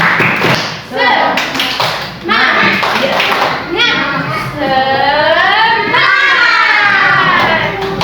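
A group of children performing a rhythmic spirit clap, sharp patterned claps and thumps alternating with sung chanting from kids and an adult leader.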